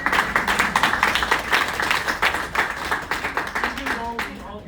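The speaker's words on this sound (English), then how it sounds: "Let's give these pioneers a round of applause." A small audience applauds pioneers at a gathering, giving a lively round of claps that builds, holds for several seconds and then tapers off as a voice starts up at the end.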